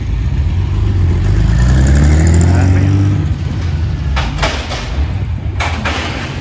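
Ferrari Dino 246 sports car coming off a luxury car transporter truck on a Paris street gives a low, rumbling engine note that swells and eases. A few sharp metallic clacks follow over steady street noise.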